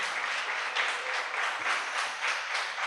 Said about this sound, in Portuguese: Você pode dar um aplauso ao Senhor por Manaus?